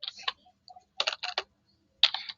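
Quick bursts of typing on a computer keyboard, clustered keystroke clicks in three short runs with brief pauses between, close and crisp with no talk.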